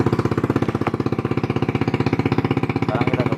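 A Honda Beat motorcycle engine runs steadily after being started, a loud, close, rapid even putter with a constant rhythm throughout.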